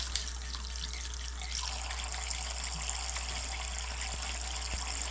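A faucet runs steadily into a sink while a pet bird bathes under the stream, a constant close splashing hiss with a few faint drips and no talking.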